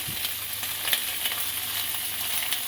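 Pork sizzles steadily as it browns in a hot pan, a constant crackling hiss with small pops, close by and uninterrupted by voices.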